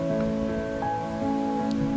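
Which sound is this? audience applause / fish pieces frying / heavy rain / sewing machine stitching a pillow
heavy rain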